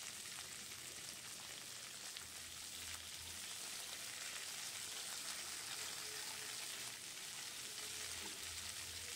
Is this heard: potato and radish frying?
yes